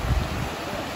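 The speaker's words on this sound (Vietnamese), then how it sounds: "Nước chảy nè con." A mountain stream near Kaysersberg in Alsace rushes with a steady, close, broadband wash of flowing water and no voices.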